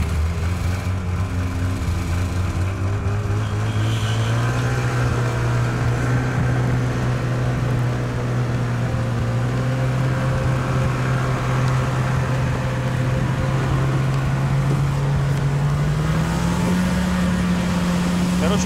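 Yamaha snowmobile engine running steadily under load while towing, a continuous droning hum that rises slightly in pitch near the end, with talk from people over it.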